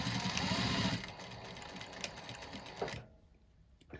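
A domestic sewing machine backstitches along a rucksack seam, running steadily and close for about three seconds before stopping abruptly into quiet.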